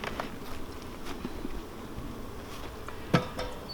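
Honeybees buzz faintly and sparsely around an open hive during an inspection, with soft scattered drones, light handling clicks and one sharp knock.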